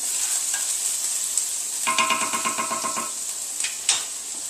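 Shallots and garlic sizzling in a pan over medium heat, with a steady soft fry hiss and a brief burst of stirring clatter midway, heard alone with no talk.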